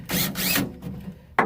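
A cordless power drill with a star bit backing screws out of a vehicle tailgate panel, giving two loud whirring bursts close up, then a short third burst.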